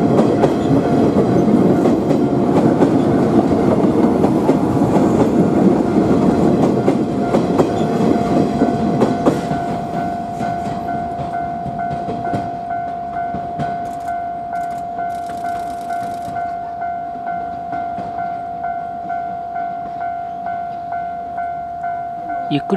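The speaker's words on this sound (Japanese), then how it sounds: "柏原駅で221系大和路快速に道を譲り出発です。" A JR 117 series electric train pulls away from Kashiwara Station, a steady loud rumble of wheels and motors that drops lower after a few seconds, with rhythmic clickety-clack over rail joints and a sustained tonal hum.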